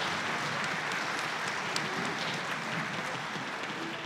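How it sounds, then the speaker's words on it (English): A concert hall audience at a high school orchestra finale gives steady, sustained applause for the staff, a continuous dense patter of many hands heard from a moderate distance. "So give a big round of applause to the Van Single staff."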